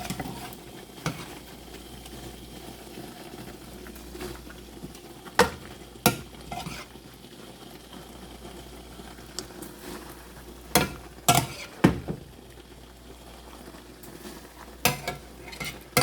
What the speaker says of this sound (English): Okay, friends, time to add our pasta.